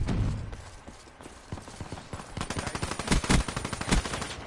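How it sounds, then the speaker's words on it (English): Video game shotgun fire comes as a run of rapid, punchy blasts that grows louder and denser toward the end, preceded by quieter clicks and movement. "Bro, he's using a shotgun."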